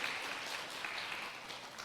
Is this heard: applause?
yes